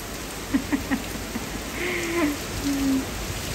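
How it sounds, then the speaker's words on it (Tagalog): A steady hiss of rain pours down, with a few soft drop thuds early on and a faint tonal call rising over the downpour. "Tingnan nyo, malakas yung ulan."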